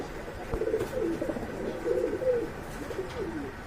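Pigeons coo nearby in a bird collection, several soft rolling calls repeating one after another against a low background hum, with no voices.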